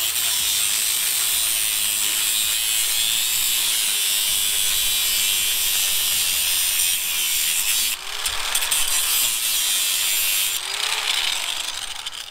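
A power tool running from a portable power station cuts through a pole with a loud, continuous grinding whine and rasping noise, close by, with changes in load and a few short bursts toward the end.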